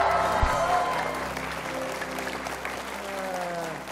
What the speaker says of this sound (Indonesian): Berikan tepuk tangan yang meriah sekali lagi buat Juve.